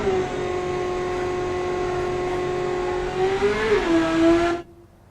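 A 1980s police interceptor car built in the Automation game, its engine holding a steady high whine while revving in second gear at speed, then rising briefly before cutting off sharply.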